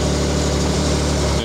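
A Can-Am Maverick R off-road side-by-side with a 240 hp engine idles close by, a loud steady rumble with a pulsing low throb throughout.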